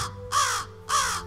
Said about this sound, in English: dominated by the caw of a crow